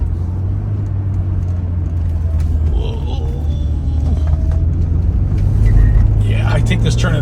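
A 1986 Porsche 944 moving through a turn at about 35 to 40 mph, heard from inside as a steady low engine and road rumble that swells slightly toward the end, with speech over it.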